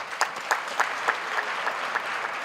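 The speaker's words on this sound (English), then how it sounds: "I think they really deserve an applause." A crowd at a university graduation ceremony claps steadily, with many hands producing a dense patter and some rhythmic clapping emerging across the room.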